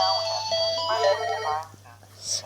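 A phone ringtone chimes in a melodic pattern, moderately loud, fading out partway through with a brief burst of noise near the end.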